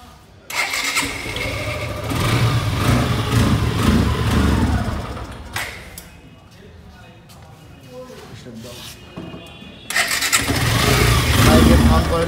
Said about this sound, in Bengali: বাইকের সাউন্ড কোয়ালিটি শুনতে পাচ্ছেন